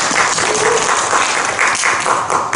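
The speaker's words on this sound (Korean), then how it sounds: "큰 박수로 맞이해주세요" Audience applause at a youth project presentation event, a lively mix of many hands clapping with some sharper individual claps standing out, sustained across the whole stretch.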